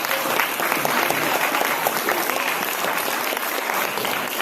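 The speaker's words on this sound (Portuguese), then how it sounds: "Obrigada, Mário Rui, uma salva de palmas." Dense, steady audience applause for journalist Mário Rui, a TSF Rádio Notícias correspondent, filling the hall at a journalism talk and holding an even level throughout with no pause.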